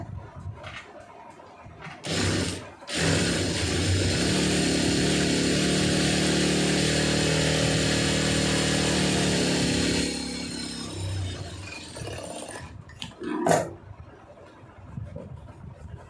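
A sewing machine runs steadily for several seconds while stitching the lining of a blouse, a close, even motor whir that stops abruptly, with brief handling clatter before and after.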